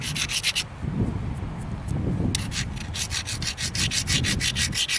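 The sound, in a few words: grinding a mookaite flint point platform with a grinder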